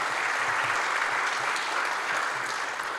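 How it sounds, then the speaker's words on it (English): Warm, continuous applause from a seated audience at a mayor's breakfast event, many hands clapping at an even level for about three seconds. "A big round of applause for all of our sponsors for making it possible."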